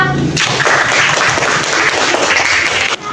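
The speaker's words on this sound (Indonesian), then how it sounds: "Kita kasih aplaus untuk kelompok 2" Classroom audience applause for a group presentation, a dense, loud burst of clapping that runs steadily for about two and a half seconds before cutting off, with no talking over it.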